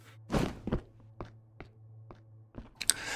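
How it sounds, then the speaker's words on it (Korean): A monster's heavy footsteps land one by one as slow, evenly spaced thuds in the horror game Novena Diabolos. They are close and distinct over a low steady hum, with a louder scuffle at the start and end. "내 뒤로 마물의 발소리가 점점 커진다"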